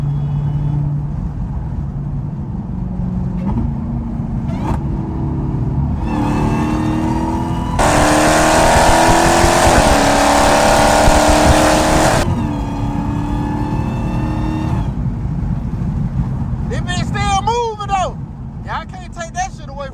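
A hoodless Dodge Hellcat drives on a broken drive shaft, its engine droning steadily and then surging into a loud, harsh acceleration for several seconds before easing back. Talk runs over the engine, with tire chirps near the end.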